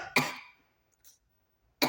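Two bursts of harsh coughing after water went down the wrong pipe, a strong fit at the start that trails off, a brief faint catch in between, then another loud burst at the end.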